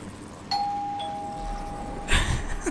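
Doorbell in the Ark video game rings with a single sustained electronic chime tone, followed by a louder, noisier burst near the end, with no speech over it.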